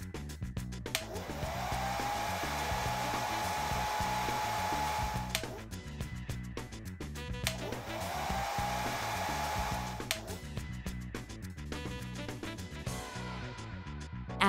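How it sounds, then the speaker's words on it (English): A hair dryer blows heat over a device being fitted with a skin, steady at close range, its whine holding for several seconds, cutting off briefly, then starting again in a second long burst. "blow the dryer heat around the device for a few seconds"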